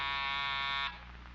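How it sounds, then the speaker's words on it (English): A door buzzer sounds a steady, loud electric buzz for just under a second, then cuts off and leaves a low room hum. "I want to check this door buzzer."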